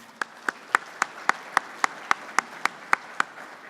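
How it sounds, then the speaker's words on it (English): Steady, evenly spaced hand claps, about a dozen in a row, fairly close and alone, given as applause for a presenter named Brad at a talk on strip-tilled soils. "How about a round of applause for Brad?"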